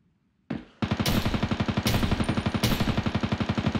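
Rapid automatic gunfire in the battle royale video game Ring of Elysium, a close, loud, sustained burst of evenly spaced shots after a sharp opening report, with no talk.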